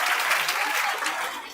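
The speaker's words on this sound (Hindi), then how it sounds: "इसमें भी तालियां बजा दिए तुम लोग।" Students clapping in a Bihar lecture class, a short burst of dense, bright applause that fills the room and tapers slightly at the end.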